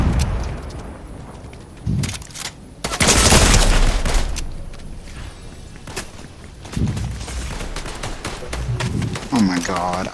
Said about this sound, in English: God, I'm shooting someone else, guy.